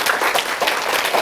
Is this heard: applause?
yes